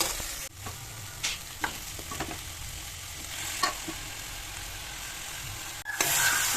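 Chicken pieces fry in a pan with oil and a little turmeric powder, giving a steady sizzle broken by occasional scraping stirs and clatters of a spoon, with no talk.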